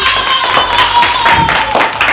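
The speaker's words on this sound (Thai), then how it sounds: "ปรบมือให้ทีมที่สอง" Students clapping for the second team during a phonics reading lesson at a village school, a busy, fairly loud patter of many hands mixed with voices and a steady tone underneath.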